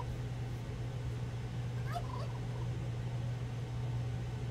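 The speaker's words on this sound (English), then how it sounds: "Look at all the turkeys." Turkeys gobbling in a video game with a bear-ravaged wilderness setting: a short burst of rapid, warbling gobbles near the middle, over a constant low electrical hum.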